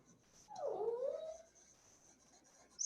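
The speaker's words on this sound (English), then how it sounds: "my dog is whining" Indoors, a dog gives a single soft whine with a rising then falling pitch, faint and close, surrounded by near silence.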